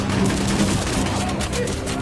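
Sustained rapid gunfire crackles continuously in a film scene where rebels fire on escaping prisoners, loud and dense with a low rumble throughout and no speech.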